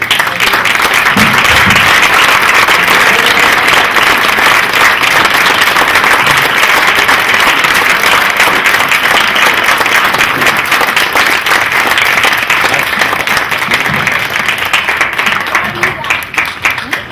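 A literary gathering applauds an author after a toast, with loud, sustained clapping from a large audience that fills the room for a long stretch, tapering slightly near the end.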